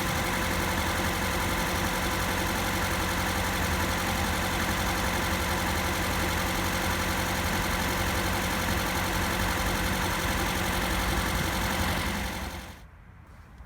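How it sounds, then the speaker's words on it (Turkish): A Fiat Egea engine, started cold after sitting unused over 20 days, idles steadily with a constant low hum and faint ticking, then cuts off near the end; no voices. "Araç biraz çalıştı rölantide."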